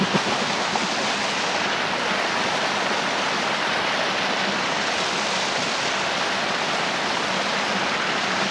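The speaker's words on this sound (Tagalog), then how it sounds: "Isang falls, mini falls na nagkarugtong." Small connected waterfalls in a forest in Ternate, Cavite, a steady, loud, full rush of falling water, close and unbroken with no voices.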